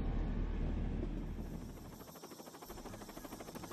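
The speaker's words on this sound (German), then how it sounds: "Die Propeller laufen bereits auf Hochtouren." Helicopter rotors spinning at full speed before a flight over Victoria Falls, a dense rhythmic chopping beat with a heavy low rumble that swells and pulses steadily, loud and close.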